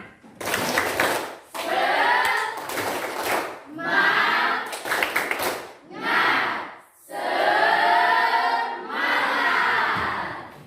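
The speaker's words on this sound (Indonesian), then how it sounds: "Tepuk semangat." A school class performs a rhythmic spirit clap in unison, with bursts of loud group clapping broken by short pauses and shouted chants from the pupils mixed in.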